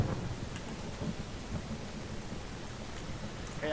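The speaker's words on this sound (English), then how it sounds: "Hey, I heard some thunder." Thunder rolls through a stormy outdoor scene in the video game Firewatch, a steady low rumble with rain-like hiss that stays at an even, moderate level throughout.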